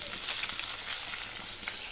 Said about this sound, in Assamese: এয়া মাছ ভাজি আছোঁ।